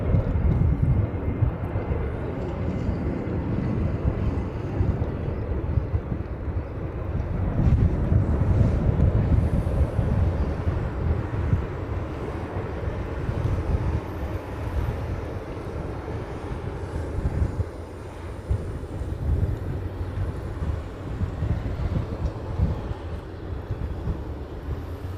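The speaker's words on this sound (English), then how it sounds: "This is a 757 heading off to Pago Pago." A Boeing 757 airliner departing for Pago Pago roars as a continuous broad engine rumble that swells and slowly eases, heard from a distance with steady wind buffeting the microphone.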